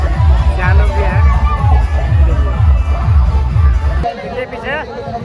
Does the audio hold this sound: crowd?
yes